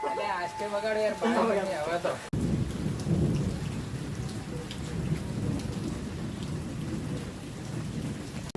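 A voice speaks briefly, then steady rain takes over at a hillside temple, a dense wash of falling drops with low rumbling underneath, continuous and close.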